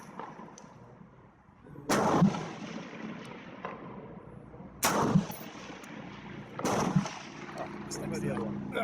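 Semi-automatic shots from an SA80 L85A1 rifle on a 300 m range, several sharp loud reports a few seconds apart, each with a broad crack and a trailing rumble over steady outdoor background.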